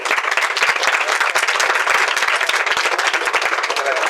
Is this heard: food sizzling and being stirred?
no